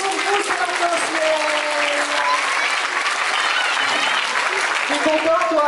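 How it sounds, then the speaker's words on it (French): An audience in Chartres applauds an orchestra with steady, full applause and crowd noise throughout, voices mixed in over the clapping. "applaudissez très fort l'orchestre qui va jouer pour vous cette intention"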